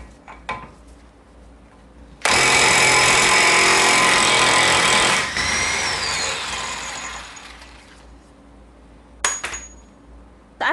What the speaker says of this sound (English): for that you're going to need an impact gun and an impact socket